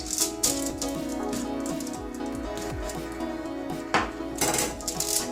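A knife making slits all over a raw eggplant: quick, light tapping and clicking against the skin, over a steady humming background.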